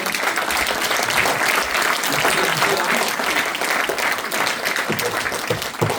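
A school concert audience in a large hall claps steadily, dense and sustained applause from many hands rolling on at full strength throughout, with a few voices faintly mixed in.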